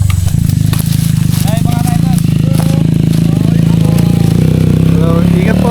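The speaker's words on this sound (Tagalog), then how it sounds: "Ito, may motor to. Yun, may motor dito." Trail bike motorcycles on a mountain trail, engines droning loudly and continuously close by, with a rising and falling whine as they pass, while people talk over the noise.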